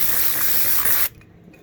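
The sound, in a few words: compressed air blowing dust off a polishing pad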